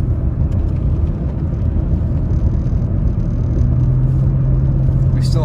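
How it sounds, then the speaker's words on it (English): A car drives on a snowy road in snow mode in Big Bear Lake, California, a loud, steady engine and tire rumble close to the listener throughout, with a faint voice briefly at the end. "Get my car back in that snow driving mode."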